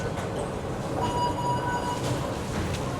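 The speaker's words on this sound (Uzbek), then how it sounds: "Mana bu metro." Metro train in China rumbling along steadily with a low continuous roar and faint rail squeal, close and sustained with no talking.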